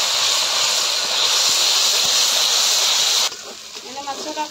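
A ginger, garlic and cumin paste masala hisses loudly and steadily in a hot pan, then the sizzle cuts off abruptly near the end, leaving fainter bubbling.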